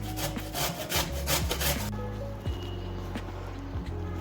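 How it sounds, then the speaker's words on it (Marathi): Carrots scraped against a grater for a carrot cake, a quick run of rough rasping strokes up front, then slower, sparser scrapes, close and fairly loud. "गाजर किसून घेतोय."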